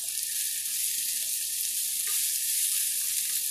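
Onions softening in a hot pan give off a steady, even sizzle of frying that carries on alone, close and fairly soft, with no voices over it.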